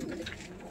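A male pigeon coos softly and steadily, a low continuous murmuring close by with no voices over it.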